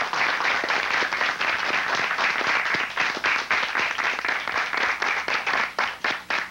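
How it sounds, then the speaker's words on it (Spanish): A television studio audience bursts into sustained applause, a dense continuous roar of many hands that thins into more distinct claps toward the end. "Juan, yo le quiero dar un aplauso primero que nada"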